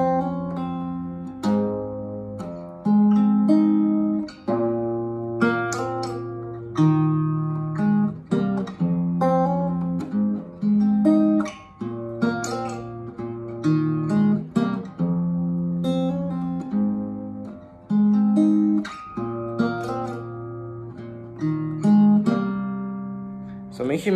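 Guitar chords strummed in a steady rhythm, clear and close, with occasional single notes between strums and no voices.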